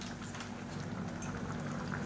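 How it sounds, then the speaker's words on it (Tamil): Continuous bubbling and simmering of a pot of okra pachadi on the boil, a dense, steady gurgle with no talk. "இப்போ நல்லா கொதிச்சிருச்சு."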